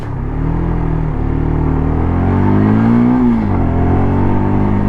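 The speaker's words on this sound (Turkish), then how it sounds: "Şu araba geçsin." A car passes close by on a road near a beach, its engine rumble rising and swelling steadily as it approaches and goes past, loud and continuous without talk.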